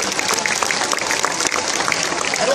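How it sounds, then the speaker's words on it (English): An audience at an outdoor seal show featuring Californian sea lions claps in a dense, continuous round of applause, loud and close throughout. "What about a big round of applause for Mom?"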